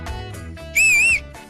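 A sharp, shrill whistle aimed at a girl, a single rising-and-falling wolf-whistle cutting in briefly and loudly over a low background of music.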